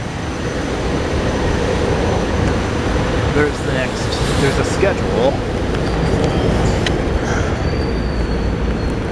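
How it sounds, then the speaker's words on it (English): A train pulls into Jefferson Station in Center City Philadelphia with a broad, steady rumble filling the station, while a person talks over it. "There's another train coming in."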